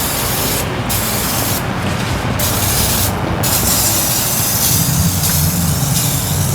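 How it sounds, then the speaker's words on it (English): A pressure washer sprays down the engine bay of an LS-swapped Monte Carlo with a built 5.3, a steady loud hiss of water jets that runs without a break throughout. "let it sit for a few minutes while I get the pressure washer going"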